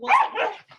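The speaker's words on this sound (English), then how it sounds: "Sorry about the dogs." Dogs bark indoors in a short burst of two sharp barks followed by a faint yip, close and moderately loud, with no talking.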